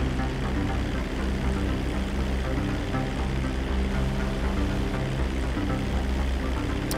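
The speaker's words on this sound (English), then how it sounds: "Of course he was able to take his own plane, too." Propeller plane flying in Grand Theft Auto V, a loud, steady droning engine hum held without a break, with no talk over it.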